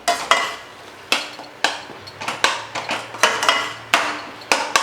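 Garam masala and other spice powders being stirred into a frying masala for tomato kurma, with a spoon scraping the pan in repeated quick strokes over a soft background sizzle. Each stroke is close and fairly loud, with short gaps between.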